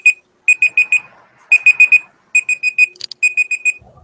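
Digital alarm clock beeping in quick bursts of four high, sharp tones, repeated in four groups with short gaps, loud and close, marking a pair programming switch.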